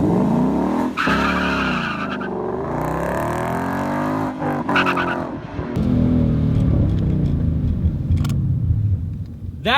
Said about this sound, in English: That wasn't quite launch control, but we did launch the car.